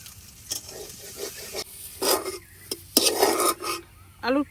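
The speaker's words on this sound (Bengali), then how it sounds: "আলুর পুরটারে আমি এই যে ভাজা নিছি," A potato puri filling fries in a pan as a utensil scrapes and stirs it in irregular bursts, with sizzle, rasping strokes and a few metallic clinks, fairly close.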